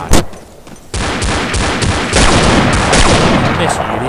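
Loud, close gunfire from the video game Half-Life: They Hunger, with an opening shot followed by a sustained, rapid barrage of overlapping shots and booms.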